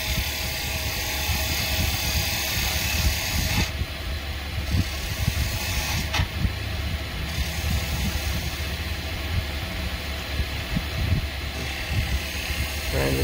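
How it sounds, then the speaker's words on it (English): A spindle moulder takes a planing cut along a wooden pot, its motor a continuous loud whirring drone with rough cutting texture and brief shifts in tone as the wood passes. "so we'll just make a planing cut."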